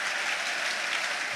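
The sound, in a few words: football crowd applauding Sulemana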